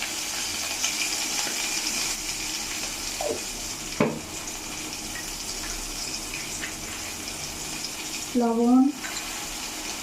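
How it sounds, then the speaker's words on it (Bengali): A small splash of water poured into a pan holding chili, turmeric and ground coriander and cumin for a potato and taro curry, giving a soft, steady pour and faint sizzle while a voice speaks briefly. "দিয়ে দেবো সামান্য একটু জল।"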